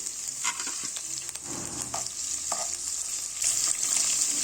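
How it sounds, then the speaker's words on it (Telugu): Chopped green chilies sizzle in hot oil in a kadai, a steady close frying hiss with a few soft stirring scrapes and clinks, no one speaking. "వేసుకున్న తర్వాత దాన్ని కొంచెం ఫ్రై కానివ్వాలి."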